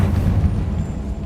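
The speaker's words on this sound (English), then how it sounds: "Confringo" A Confringo spell blast in the Hogwarts Legacy video game, heard as a dense, low rumbling roar that holds steady for just over a second.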